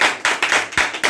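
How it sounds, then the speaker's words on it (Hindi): A small group clapping for a student in a classroom, a few loud, close claps in a quick rhythm lasting about a second. "इसके लिए ताली बजा दीजिए।"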